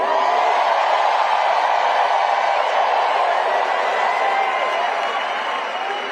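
A huge crowd at a Kamala Harris campaign rally in Detroit, Michigan roars in a steady, dense cheer that holds loud throughout before easing slightly at the end.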